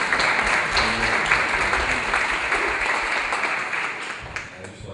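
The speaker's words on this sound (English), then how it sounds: "let's give John a round of applause" A conference audience at a harbor revitalization waterfront event applauds a speaker, dense continuous clapping from many people, fairly loud and sustained for around five seconds, tapering a little at the end.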